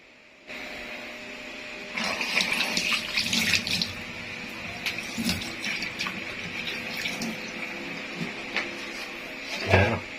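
Water runs steadily through a V98 alkaline water purifier being tested after a filter change, a continuous close hiss and splash with a few knocks and clatters near the end.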